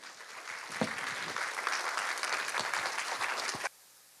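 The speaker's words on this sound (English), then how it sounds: "Ladies and gentlemen, a round of applause for Dr. Willie Banks, Jr" Audience applause at a foundation scholarship award ceremony in Southern California, a dense, steady roar of many clapping hands that holds at even strength, then cuts off abruptly near the end.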